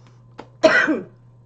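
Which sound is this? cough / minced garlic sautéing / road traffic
cough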